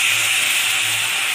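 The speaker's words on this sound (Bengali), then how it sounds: "মশলাটা একটু ভেজে নিই" Spice paste masala frying in hot oil, a loud, steady, bright sizzling hiss up close that cuts off abruptly at the end.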